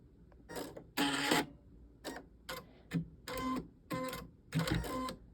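An embroidery machine stitches a zipper bag in the hoop, giving bursts of rapid mechanical rattling separated by brief pauses, close and fairly quiet with no one speaking.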